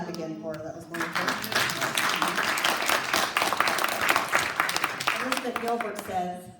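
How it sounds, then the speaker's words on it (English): Steady crowd applause fills the whole stretch, dense and loud, with some faint voices mixed in near the start and end. "you got to clap again for her"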